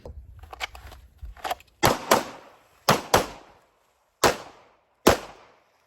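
A Walther PDP red dot pistol fired one-handed at close range: about six sharp, loud reports in unevenly spaced pairs, after a few softer shuffling knocks.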